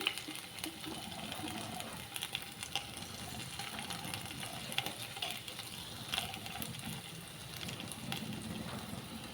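Chicken liver frying with ginger and salt in a pan, a steady broadband sizzle running throughout with occasional faint clicks and scrapes, moderately quiet and even.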